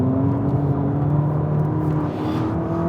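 A Ferrari SF90 hybrid hypercar's engine holds a steady, smooth drone with a slowly rising pitch, close and fairly loud, heard from on board without talk.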